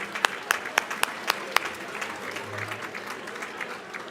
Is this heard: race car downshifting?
no